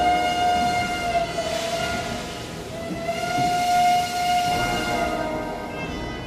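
A train rolls along with a steady low rumble and rattle of wagons, while a long tonal whistle or horn sounds twice across the passage, fairly loud with no voices.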